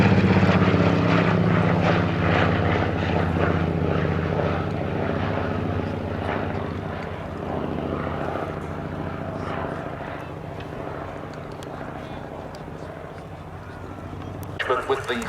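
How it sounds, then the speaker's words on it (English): A Lockheed 12A Electra Junior twin-engine propeller aircraft at a Duxford airshow drones steadily overhead, loud at first and slowly fading into the distance. "this is the Lockheed 12A Electra Junior"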